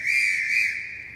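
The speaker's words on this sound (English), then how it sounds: "someone whistled on a door key" A single sharp, high whistle, blown on a door key, sounds steadily for about a second before fading.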